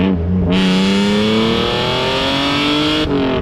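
Supercharged BMW E46 330i with a twin-screw supercharger, engine revving hard and loud, pitch climbing steadily through a sustained pull of nearly three seconds before dropping off.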